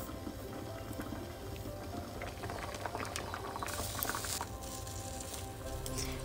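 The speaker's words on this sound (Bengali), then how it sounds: "তারপরে আলুটাকে আমি সেদ্ধ করে নেব" Cut potatoes boiling in a covered pot for village-style Bengali aloo dum, with a dense, continuous bubbling and gurgling at close range that grows slightly brighter partway through, no voices.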